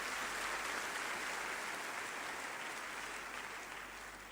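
Audience applause at a speech, a dense steady wash of clapping that holds at an even level throughout and tapers slightly toward the end, with no voices over it.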